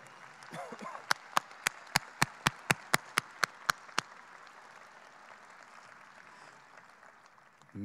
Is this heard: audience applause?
yes